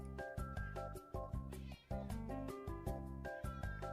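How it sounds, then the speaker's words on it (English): A cat meows and yowls in a string of loud, drawn-out, insistent cries, close and repeated without pause over a few seconds. "My cat is running around and yelling."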